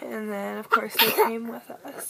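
A single sharp sneeze bursts out partway through, close and fairly loud, with a person talking before and after it.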